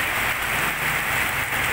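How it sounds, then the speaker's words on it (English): Steady rain falls on an awning in Cambodia during Khmer New Year. It makes a dense, even hiss that fills the whole stretch, with no voices rising above it. "People getting out from the rain. Waiting for it to let up."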